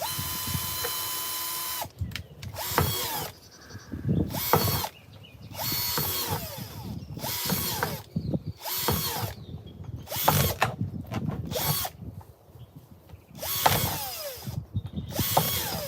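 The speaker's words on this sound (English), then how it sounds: "Drilling holes in this container is not hard if you have a drill." Power drill boring holes through the side of a plastic planting container, in repeated loud bursts of whining motor and cutting with brief gaps between them, and no talking.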